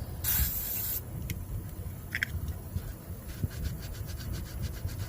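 Short close hiss of Supertech lubricant sprayed onto a tractor rear axle part to clean it, followed by faint rubbing and scraping noises in a quiet workshop.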